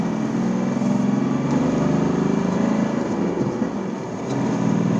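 A Mahindra Bolero Neo's engine pulls hard under steady acceleration, a continuous loud drone with rising harmonics heard from inside the cabin, with no talk over it.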